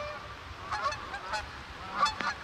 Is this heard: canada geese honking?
yes